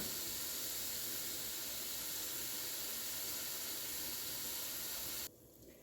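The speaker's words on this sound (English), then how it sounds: "So my meat is starting to get browned." Ground meat browning in a pan, a steady close hiss of sizzling that holds evenly and then drops abruptly to a quieter simmer near the end, with no talking.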